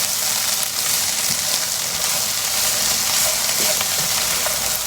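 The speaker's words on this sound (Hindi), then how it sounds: "और ये अच्छी तरह मिक्स करें और 2-3 मिनट के लिए इसे भी भून लूँगा।" Peas and masala stir-fry in a pan with a steady, loud sizzle and occasional scraping stirs, continuous throughout with no talking.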